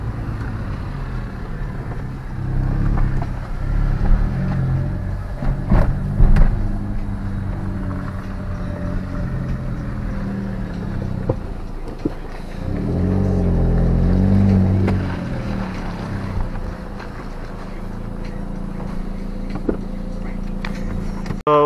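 A modified exhaust on a Skoda Octavia vRS mk2 with the 2.0 TFSI engine, a deep rumbling drone that rises and swells in the middle, heard from inside or near the car with scattered knocks.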